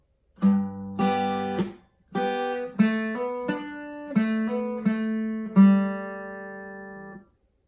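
An unaccompanied guitar plays slowly, a couple of strummed chords followed by a lick of ringing single notes that fades out, close and clear.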